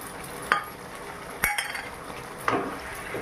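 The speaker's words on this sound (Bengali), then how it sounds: "একটু নেড়ে চেড়ে নিলাম।" A spoon stirs papaya, potato and poppyseed curry with green chilies in a metal pan, giving three sharp, evenly spaced clinks and scrapes against the pan over a soft simmering background.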